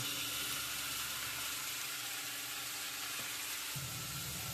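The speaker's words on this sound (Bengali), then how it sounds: "এবার আমি কুচানো গাজরগুলো দিয়ে দিচ্ছি" Grated carrots go into a pan of vegetables already frying on the stove, giving a steady, dense sizzle close by with a slight change in tone near the end and no talking.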